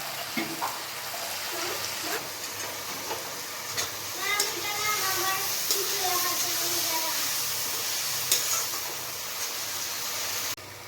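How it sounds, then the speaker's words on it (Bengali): Spice paste with a little water sizzling and bubbling in a hot pan with intermittent stirring and scraping, a low hiss throughout and faint background voices. "আমি সামান্য জলও দিয়ে দিলাম, যাতে মশলাটা ভালো মতো ভাজা হয়"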